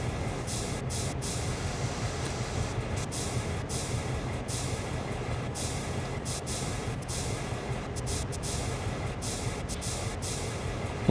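Train running in the Train Sim World 3 simulator on the Peninsula Corridor, a steady continuous rumble with rail and brake noise and repeated brief bursts of crackling, stuttering glitch in the upper range, no voices.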